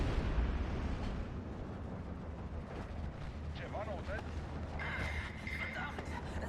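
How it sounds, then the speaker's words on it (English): IAR aircraft making a strafing run in the World War II strategy game Steel Division 2, a rumbling, continuous barrage of cannon and gunfire bursts with booming impacts, dense and moderately distant. "we just have a bunch of IARs come in and just strafe chain them"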